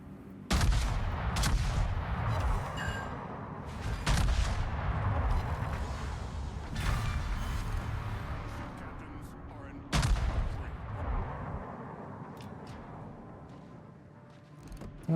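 Warship main batteries firing in World of Warships, with heavy booming salvos at intervals over a continuous rumbling background of naval combat, while a player talks over the action.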